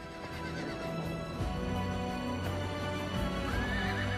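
Horses on a fossil-hunting expedition through a remote valley whinny and neigh, with steady clip-clop of hooves plodding along and a continuous outdoor background.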